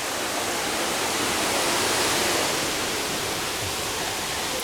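Fuller Waterfalls in Kintampo, Ghana, roaring as a steady, loud, broadband rush of falling water that stays constant and close throughout, with no voices over it.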